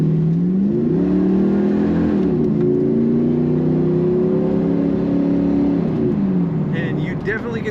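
A supercharged 1994 Pontiac Firebird Trans Am 25th Anniversary accelerates with a loud, droning engine note that rises, holds and falls through shifts of its automatic transmission, heard from inside the car.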